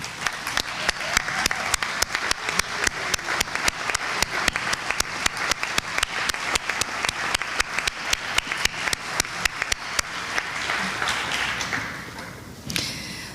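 Commencement ceremony audience applauding a graduates' cheering squad, sustained loud clapping from a large crowd that fades near the end.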